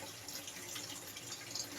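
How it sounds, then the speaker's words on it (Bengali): Water runs steadily from a kitchen tap while meat is being washed, a faint, even hiss of flow with no voices. "কত জল পড়ে যাচ্ছে"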